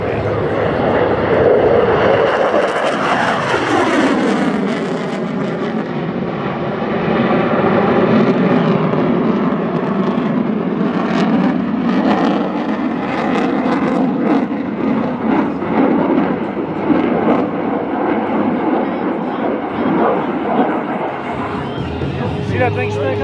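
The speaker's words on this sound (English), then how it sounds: "The F-15 is setting up for a photo pass." An F-15 fighter jet making a photo pass at an airshow, a loud roaring engine sweep with falling pitch that swells and lingers overhead as spectators talk and murmur nearby.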